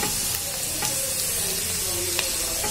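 Carrot and bean pieces stir-fried in a pan for veg noodles, with a steady close sizzle and scraping stirs running throughout, a few sharper utensil taps standing out.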